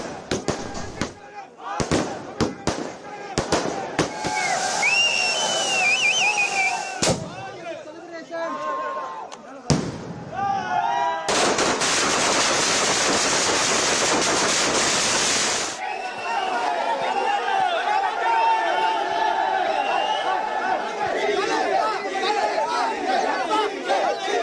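Firecrackers burst at a celebration outside a party office in Panaiyur, Tamil Nadu, with sharp bangs in irregular clusters and one long crackling barrage, under crowd chatter and cheering throughout.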